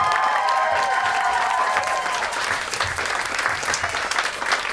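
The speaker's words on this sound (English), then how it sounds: "One more round of applause" Sustained concert applause from the Ethno New Zealand 2023 audience at Lopdell House, a dense wash of clapping with some cheering and a few voices mixed in, steady and fairly loud throughout.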